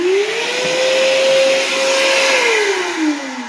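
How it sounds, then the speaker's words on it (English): A Ryobi 40V battery shop vacuum runs loud and close, a steady whine that rises in pitch, holds, then dips slightly. "All right, let's start vacuuming."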